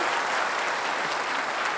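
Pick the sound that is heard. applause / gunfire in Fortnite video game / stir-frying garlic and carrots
applause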